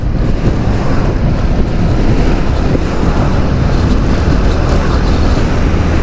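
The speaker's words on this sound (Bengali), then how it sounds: "গাড়িগুলোর বাতাসেই তো কাঁপাই ফেলতেছে।" Wind gusts from buses and other vehicles passing close on a busy road near Cox's Bazar produce loud, continuous roaring buffeting against the microphone, like heavy wind noise with no break.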